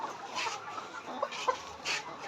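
Soft, scattered clucks from chickens nearby, a few short calls over a faint background murmur.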